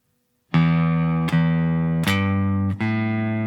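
A distorted electric guitar rings out a sustained, heavy blues riff, with four strong chord attacks and each chord left to ring.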